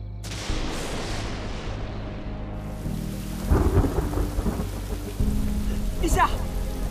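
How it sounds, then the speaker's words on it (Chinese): Thunder rumbles heavily and rolls on while rain starts pattering down. A second loud crack and rumble breaks in partway through, close and strong. "要下雨了，咱们回去吧。"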